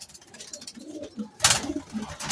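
Racing pigeons, young birds kept in a loft, give low cooing calls that rise and fall, joined halfway through by a sudden louder burst of rustling or wing noise close by.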